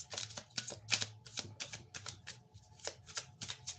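Tarot cards shuffled by hand, a steady run of soft riffling flutters and taps, close and fairly quiet, with a low hum underneath and no talking.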